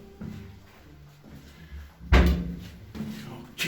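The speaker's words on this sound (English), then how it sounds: "The door shut." An indoor door swings shut on its own with a single loud thud, preceded by quiet shuffling and soft voices in a small, room-like space.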